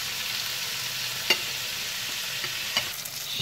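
Lokum-style meat steak searing on its second side in a frying pan, a steady broadband sizzle with a few brief louder pops and crackles, close and continuous with no talk.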